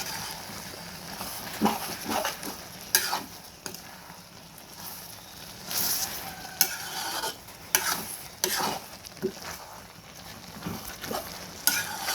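Catfish stir-fried in a pan with dried chili and holy basil in a slightly saucy mix, making a soft steady sizzle broken by repeated scraping stirs of a utensil against the pan, close by.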